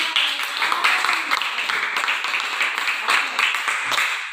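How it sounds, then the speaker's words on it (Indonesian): A Christian religious education class claps together, and the applause comes in a steady mid-loud patter of hands in a classroom with a few voices mixed in. "Ibu mau dengar tepuk tangan?"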